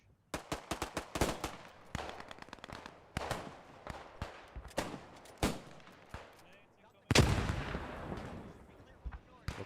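Machine gun fire in the World War II shooter Post Scriptum, repeated sharp bursts and single cracks at varying distances, with a heavy close volley near the end and voices faintly under the shooting.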